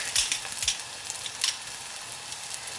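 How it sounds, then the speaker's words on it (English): Green onions and garlic frying in a pan make a steady, close sizzle with a few brighter crackling bursts over a low hiss, with no one talking. "I'm gonna fry the green onions in, add the garlic"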